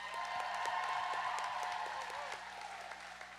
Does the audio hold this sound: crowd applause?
yes